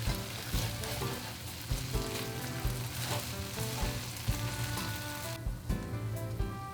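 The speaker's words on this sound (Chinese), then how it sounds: "那翻面之后呢，另一面就让它慢慢的煎。" Soft, steady sizzle and crackle of an oyster omelet with egg and greens frying in a pan, with light scraping and tapping sounds scattered throughout.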